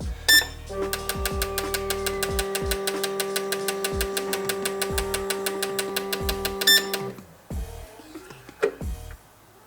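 A twin-turbo Mustang engine cranks and settles into a steady mechanical hum at idle with a repeating ticking pulse, stopping abruptly near the end with a few clunks.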